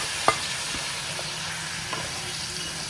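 Boiled pumpkin is stirred into fried spices in a pan, giving a soft ongoing sizzle with a few scraping clinks of the spatula near the start and again later, close and fairly quiet.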